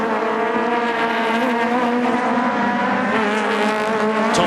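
Aussie Racing Cars race on the Adelaide street circuit, with a loud, sustained engine whine carrying rising harmonic tones as the small cars scream past close by.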